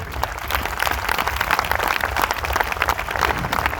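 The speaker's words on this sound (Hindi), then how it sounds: "किसी ताली उनके लिए।" An audience at a large network marketing event in Sonipat, Haryana, claps together in sustained, dense applause, loud and continuous from start to finish with no voices standing out.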